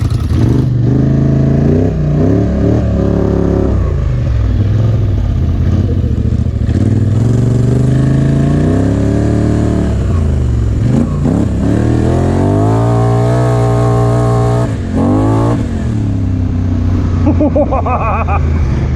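A Polaris Scrambler XP 1000 S side-by-side engine revs repeatedly, its pitch climbing and falling as the vehicle accelerates close by, loud and throaty throughout.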